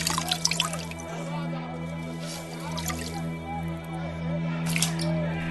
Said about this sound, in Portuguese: Lavou as mãos diante da multidão